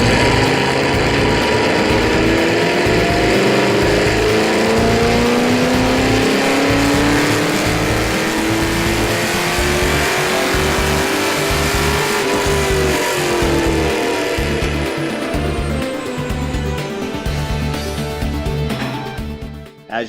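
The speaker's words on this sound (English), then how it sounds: "Let's take a drive on the dyno and see how this cold air induction system makes our SS perform." A 2010 Chevrolet Camaro SS V8 fitted with a BBK 1771 cold air intake runs up on a dyno, its engine note climbing steadily through the gears for about twelve seconds before easing off. The sound is loud, close and continuous, with no talking.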